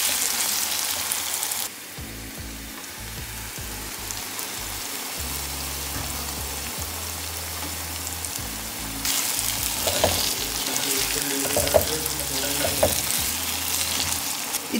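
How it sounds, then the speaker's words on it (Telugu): Onions fry in a pan with a steady, close sizzle that runs the whole time and swells louder partway through, with no one talking. "ఆనియన్స్ చక్కగా ఫ్రై అవుతున్నాయి."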